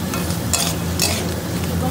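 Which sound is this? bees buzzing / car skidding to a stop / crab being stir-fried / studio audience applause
crab being stir-fried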